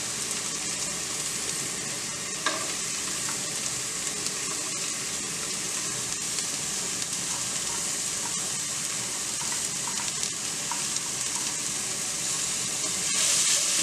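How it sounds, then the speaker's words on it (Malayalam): Onion and carrot sauté in a pan for vegetable noodles, with a steady, even sizzle and occasional scrapes and taps of a stirring spoon, close and continuous. There is no talking. "നന്നായിട്ട് ഇളക്കി വഴറ്റി എടുക്കുക."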